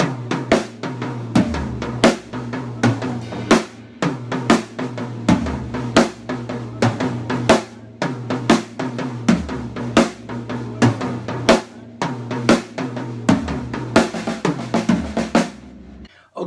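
Sixteenth-note drum pattern played on toms, starting with the right hand, in swung feel with a hi-hat, a steady run of close, loud hits with no talking.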